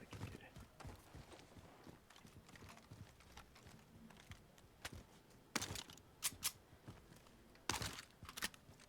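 Footsteps in Call of Duty Warzone, a run of faint, quick thuds and scuffs that rise into a few sharper, louder steps later, with quiet game ambience underneath.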